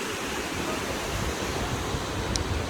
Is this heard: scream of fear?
no